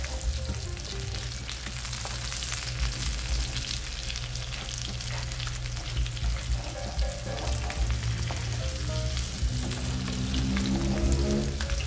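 Ham-wrapped rolls frying in a pan after being turned, giving off a loud, dense, continuous crackling sizzle like heavy rain, with faint clinks here and there.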